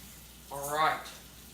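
Butter frying in a pan, one short bubbling sizzle that swells and fades within about a second, faint under steady background noise.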